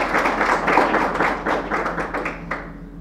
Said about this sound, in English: A round of applause to our publications division.